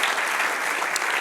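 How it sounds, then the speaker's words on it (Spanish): Dense, steady applause from a church congregation fills the whole moment, loud and close with no pauses or voices standing out. "Denle un aplauso al que vive."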